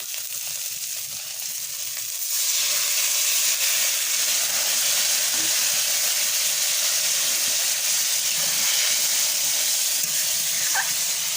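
Water poured into a pan of spiced potatoes sets off a loud, steady sizzling hiss that jumps up after a couple of seconds and holds without a break, close by with no talking.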